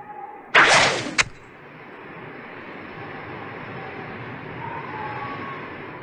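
A single sharp shot from a ranged attack in the turn-based game Geneforge 2, loud and brief with a quick second crack, then fading into a low ambient hum with no talking.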